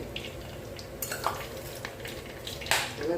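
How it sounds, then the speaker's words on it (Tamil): Mustard seeds fry in hot oil in a clay pot, producing a soft, low sizzle with scattered light pops and a few utensil clinks, fairly quiet and close. "மண் சட்டியில் எண்ணெய் இப்போது இதில் கடுகு"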